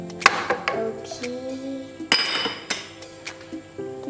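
A spoon stirs rice payasam in a pot, Kerala style, knocking against the metal in sharp, irregular clinks and taps, some ringing briefly, close up and without talk.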